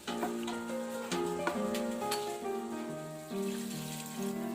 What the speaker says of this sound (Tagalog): I added more water